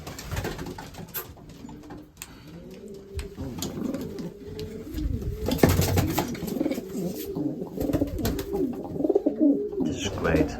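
Racing pigeons coo steadily inside a loft, layered throaty calls rolling over one another close by, with a person talking quietly at times beneath them.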